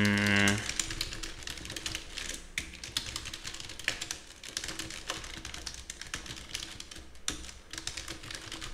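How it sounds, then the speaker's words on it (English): Rapid, continuous typing on a computer keyboard in Microsoft Word, with dense irregular key clicks running steadily throughout at close range. "I'm typing some random text."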